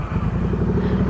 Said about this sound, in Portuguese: O objetivo desse vídeo hoje é vocês ouvirem um pouco o som do escapamento e tirarem as suas próprias conclusões.